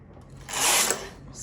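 A knitting machine carriage slides once across the needle bed, making a brief, bright mechanical rasp that swells and then fades within about half a second.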